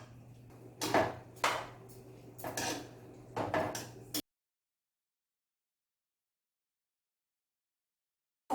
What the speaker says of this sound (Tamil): குக்கரை மூடி வெயிட் போட்டு